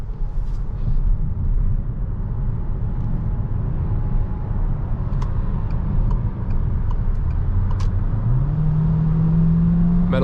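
A 2022 Peugeot 3008 GT Hybrid plug-in with 300 hp accelerating hard at night: a steady road and engine rumble, with a rising engine tone climbing in pitch over the last couple of seconds.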